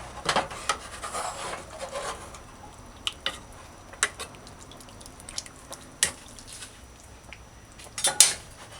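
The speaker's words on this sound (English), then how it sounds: "Let's cut the pepper." A knife cuts through a pepper on a cutting board at home, making scattered scraping and tapping strokes. Some strokes come close together and others stand alone, with a louder rasping cluster near the end.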